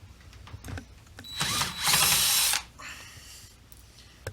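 A power drill backs out belt trim screws during a diamond plate install on a finished build, with a loud sustained whir near the middle between shorter bursts and clicks.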